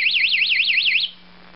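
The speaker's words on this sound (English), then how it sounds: "The top buzzer for the full starts is hidden underneath here." A race timer's false start buzzer sounds as a loud electronic warble, a rapidly rising and falling tone that repeats steadily for about a second, then cuts off abruptly, leaving a faint low hum.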